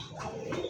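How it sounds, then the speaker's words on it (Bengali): A fancy domestic pigeon at a pigeon market gives a single brief, low coo, heard close and fairly soft. "কত সুন্দর একটা কালারের ককা কবুতর"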